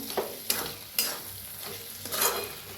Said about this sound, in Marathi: आपल्या कोथांबीर मिक्स करूया